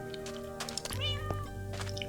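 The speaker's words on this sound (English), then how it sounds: "So we've got 5 little kittens there." Minecraft kittens meow, several short close meows overlapping against a steady low in-game hum, no talking.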